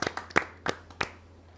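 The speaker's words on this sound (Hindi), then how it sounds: "ज़ोरदार तालियों से स्वागत करें।" A few scattered hand claps from a poetry gathering audience welcoming a poet from Dadri, Haryana, with about five sharp separate claps over a second and a half, fairly quiet and with no voices.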